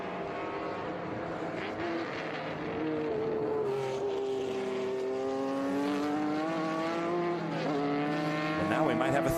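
Race cars, including a BMW and a Porsche 911, howl around Virginia International Raceway, with rising and falling engine pitches as cars pass, under an announcer's commentary.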